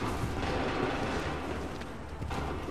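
Musket volley fired on command in Assassin's Creed III Remastered at Lexington and Concord, a muffled, rumbling crack of massed gunfire with a further sharp report near the end, distant and fairly quiet.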